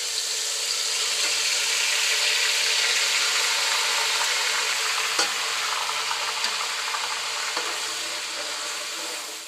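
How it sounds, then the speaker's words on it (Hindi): Garlic and ginger paste frying in ghee in a pan gives a steady, close sizzle, with an occasional stir or clink and no voices. "लहसुन और अदरक को मैं थोड़ा सा फ्राई करूंगी"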